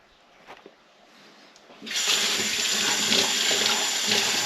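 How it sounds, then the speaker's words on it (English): Tap water runs over a freshly cleaned haddock or cod, starting abruptly after a few faint knocks and then pouring in a steady, bright splashing rush close by. "Run it under some water."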